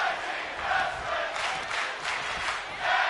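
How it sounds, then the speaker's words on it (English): Wrestling crowd in Liverpool on its feet, a loud, sustained roar of cheering and shouting filling the arena with swelling waves of noise. "Crowd here in Liverpool on their feet."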